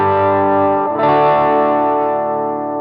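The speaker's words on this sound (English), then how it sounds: "overdrive should sound really natural because it's meant to mimic a tube amp being pushed into its natural breakup" Electric guitar through a Wannabe overdrive pedal set for natural tube-style breakup: a sustained, gritty chord rings out, then a second strummed chord takes over, both held loud and steady with no talking.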